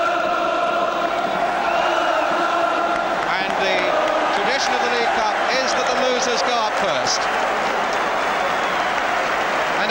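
A stadium crowd at the 1972/73 League Cup Final between Norwich City and Tottenham Hotspur applauds the team, a loud, continuous roar of clapping and cheering with a commentator talking over it.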